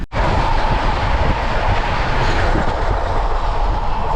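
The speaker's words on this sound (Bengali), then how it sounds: "ট্রেনটা বেরিয়ে গেল" Train leaving toward Malda Town on the New Bongaigaon route, a loud continuous rumble with clickety-clack of wheels on rails close by, no voices.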